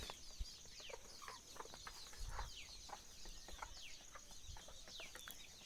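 Free-range country chickens on a farm with around 150 birds, including small chicks, fed green fodder. Steady overlapping clucks and high chirps carry on throughout at moderate distance, with no talking.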